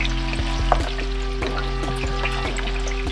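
A smash burger patty sizzles steadily in hot oil on a griddle, a dense, continuous frying hiss with a few soft scrapes and clicks from a spatula, close and fairly loud with no talking.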